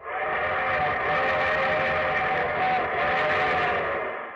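A loud, chord-like train whistle blows for several seconds and swells twice, as a train rolls in on a radio show.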